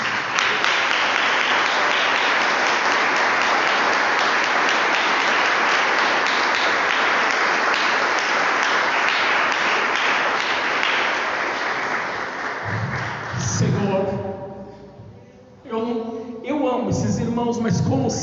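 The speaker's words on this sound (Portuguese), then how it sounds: "Agora nós vamos aplaudir ao Senhor Jesus." A church congregation claps together in sustained, dense applause for about twelve seconds before the clapping thins out and a voice begins to speak with music.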